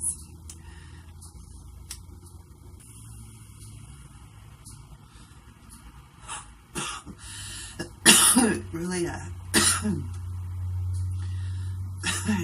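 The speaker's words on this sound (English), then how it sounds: "it makes me cough" A girl coughs in a short harsh burst partway through, a few rough hacks close to the mic, with brief talk before and a low steady engine-like hum underneath.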